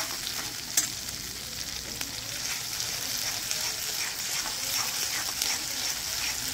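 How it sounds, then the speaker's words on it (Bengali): Ginger sautéing in a pan for prawn malai curry, with a steady bright sizzle and faint stirring scrapes, close and continuous, no talking. "2-3 মিনিট আদাটা একটু কষিয়ে নিলে আদার গন্ধটা চলে যাবে"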